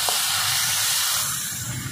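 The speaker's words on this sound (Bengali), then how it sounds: "এবার দিয়ে দেব বেটে রাখা পেঁয়াজ" Ground onion paste hits hot oil in a pan while cooking a Bengali katla fish curry, setting off a loud, steady sizzling hiss that fades only slightly.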